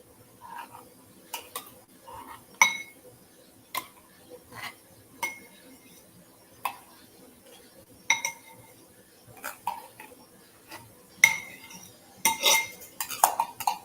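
Metal utensils scrape and clink against a can and dish while tomato paste is scooped out for homemade pizza, with sharp, irregular taps spread through the clip and a quick cluster of clinks near the end.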